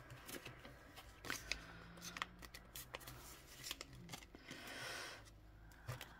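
Banknotes being handled and a 10-euro note slipped into an envelope, giving soft, close papery rustles, crinkles and short scrapes at low volume.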